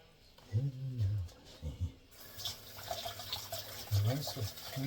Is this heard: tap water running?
yes